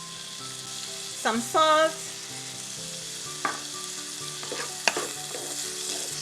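Mixed frozen vegetables sizzle in a hot pan during stir-frying, a soft steady crackle with a few clinks and stirring scrapes, while a voice briefly speaks.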